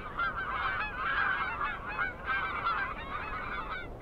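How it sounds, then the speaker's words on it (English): A flock of geese honking as they fly south over snowy mountains in early winter, a dense, continuous chorus of overlapping honks at moderate loudness with no other sounds. "Winter is coming, and the geese fly south."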